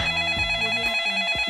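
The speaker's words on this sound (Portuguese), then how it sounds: "Ih, o telefone, ó." A telephone rings with a steady electronic warble, loud and close, continuing through the short stretch without any talking.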